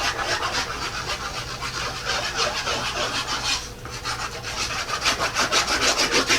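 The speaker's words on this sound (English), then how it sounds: "So let's scrub our glue on." Rapid rhythmic scrubbing as glue is worked onto a scrapbook page with a brush, close and steady, with repeated back-and-forth strokes and a brief pause midway.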